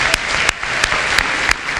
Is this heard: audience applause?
yes